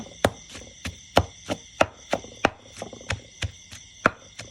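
Chilies pounded in a mortar in a home kitchen, making a spicy dish: a steady run of about a dozen sharp, close thumps at an even rhythm, with no talk over them.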